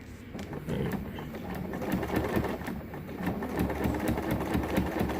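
A sewing machine runs continuously while sewing a down throw underquilt, giving a close, steady mechanical hum with rapid ticking stitches throughout.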